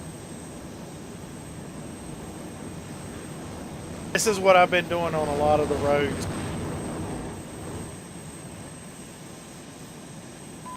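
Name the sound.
jet engine driven on roads in a video game mod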